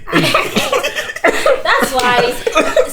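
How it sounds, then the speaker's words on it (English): A woman coughs and splutters in short, close bursts mixed with chuckling, loud and repeated over a few seconds. "And why are you coughing?"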